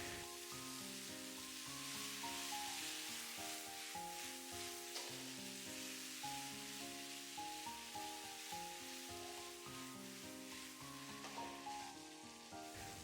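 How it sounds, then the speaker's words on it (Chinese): Eggplant slices stir-fried over high heat in a wok with soy sauce and matsutake seasoning give a steady, dense sizzle that runs the whole time beneath continuous background music. "大火快速翻炒50秒左右，让调味料和食材混合在一起，将食材炒至入味"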